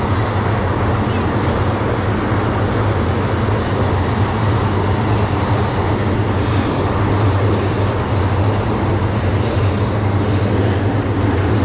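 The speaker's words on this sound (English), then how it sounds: "So that was the Yamanote, the busiest train line in" Yamanote Line commuter train passing in Tokyo, a loud, steady roar of wheels and motors with a deep rumble that holds for the whole stretch, close by, with no talking over it.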